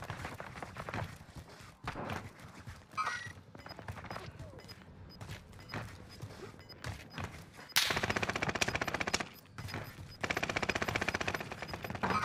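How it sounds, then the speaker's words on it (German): Bursts of gunfire from the Warzone Pacific video game on Rebirth Island, with repeated rapid shots and automatic fire, loud near the end, mixed with game sounds and voices. "Wer schießt hier?"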